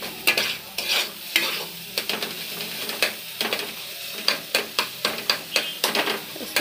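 Spice masala for Bihari-style jackfruit curry is stirred and fried in a pan, with a low background sizzle broken by repeated sharp scrapes and clacks of a ladle against the metal, quickening toward the end.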